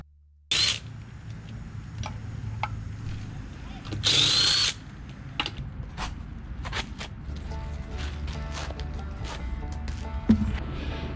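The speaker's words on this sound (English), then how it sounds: "I got a adapter for my impact gun." Impact gun with an adapter working on 21mm lug nuts of a 2015 Toyota Tacoma, short loud rattling bursts amid clanks and handling noise, close by.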